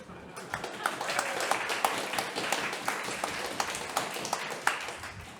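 Audience at a live comedy special in Singapore clapping after a joke, a dense, even spatter of many hands held at moderate volume for several seconds, with a faint voice underneath.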